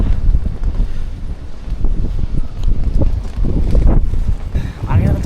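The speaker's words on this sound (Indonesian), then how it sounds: "Angin kenceng banget, gila." Strong gusting wind on the Annapurna trail in the Nepal Himalaya, loud buffeting roar battering the microphone in uneven surges, with people talking underneath.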